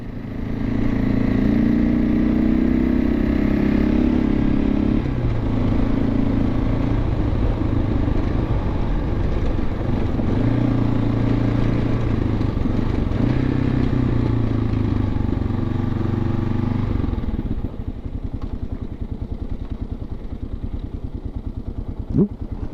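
A motorcycle rides steadily in Ash Fork, with a loud, continuous engine drone and wind rush that holds for about eighteen seconds, then drops to a lower idle with light clatter near the end.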